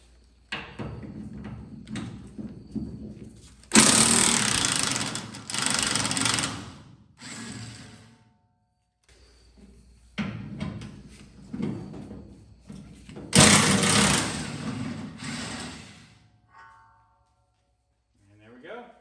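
Bolts on the trailer hitch of an 88-99 Chevy 1500 pickup are loosened in loud bursts of rattling mechanical whirring, three main runs separated by pauses, with people talking around them.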